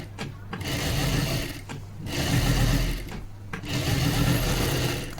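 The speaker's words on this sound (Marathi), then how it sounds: "अशी शिलाई करून घ्यायची ते तुम्हाला मी एक करून दाखवते" A sewing machine stitches katori blouse pieces in three loud, close runs of fast, even mechanical whirring, each broken by a short pause.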